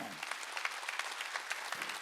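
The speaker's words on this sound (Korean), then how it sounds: "박수 치라고요." A church congregation at a Wednesday worship service claps together in a steady, dense burst of applause that fills the room, heard moderately loud and continuous throughout.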